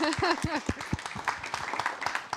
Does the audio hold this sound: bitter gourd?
no